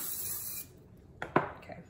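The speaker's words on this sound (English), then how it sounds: "Let's give this thing a spray so it doesn't stick." Cooking spray hisses from a can into an Instant Pot in a short burst, a faint near spray with a couple of quick puffs, sputtering as the can runs nearly empty.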